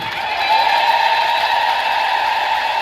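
A congregation of worshippers ululates together in a church during a sermon on the Virgin Mary, a loud, sustained, high-pitched trilling chorus that fills the whole stretch without pause.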